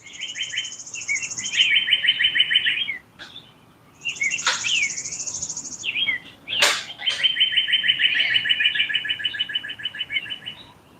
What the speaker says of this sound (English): They're all happy this morning. The sun's coming out. It's a beautiful, clear day. The birds sing in the morning